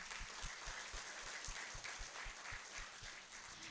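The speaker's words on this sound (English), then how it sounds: "Please give applause to our moderator." A seminar audience applauds the moderator with steady, continuous clapping that sounds faint and distant.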